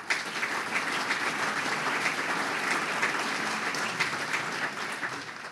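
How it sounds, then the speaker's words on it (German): An audience claps steadily and evenly throughout, a continuous moderately loud wash of applause at a formal ceremony for the key handover after a school renovation in Villach, with no voices over it. "Applaus."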